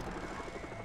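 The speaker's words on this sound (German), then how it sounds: "So, der Hubschrauber landet ja auch schon mal." A helicopter landing in the video game Far Cry 3: Blood Dragon gives a brief, steady, fairly quiet whirring rotor drone with no speech over it.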